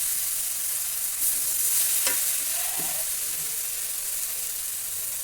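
Spice paste sautéing in oil as the oil separates, a steady close sizzle with a brief scraping stir in the middle, no talking.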